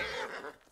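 A horse in the video game Ghost of Tsushima gives a brief, close neigh that fades quickly, heard alone without talk.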